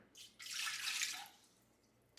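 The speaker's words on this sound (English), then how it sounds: "We're going to add 1 cup of water." One cup of water is poured into an Instant Pot over a trivet, a short splashing pour of about a second that trails off quietly.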